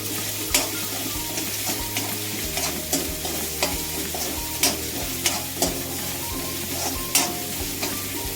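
Eggplant for bharta roasts and sizzles in a pan, a steady frying hiss broken by regular scraping knocks from stirring every second or so, close and fairly loud with no talking.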